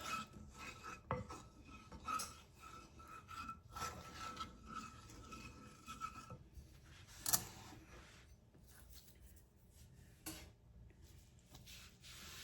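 Garlic chicken and potatoes being mixed in a dish, soft scraping and rubbing with intermittent clinks of a utensil against the dish, close, quiet and uneven, with no talk.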